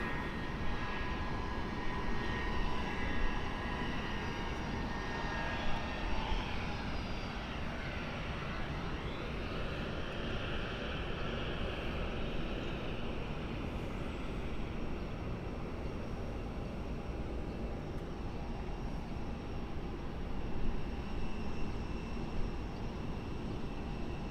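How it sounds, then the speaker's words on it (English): An MD-88 jet airliner idles and taxis near a runway at Cleveland's airport, its engines giving a steady, fairly distant roar with a thin whine on top that holds for the whole stretch, with no voices. "I'm going to shut up and let you listen to the MD-88 that's down there."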